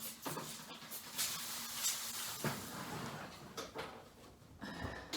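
Several bursts of hissing spray mist from a spray bottle onto sourdough loaves before baking, over a steady kitchen background, with faint clatter of trays between them.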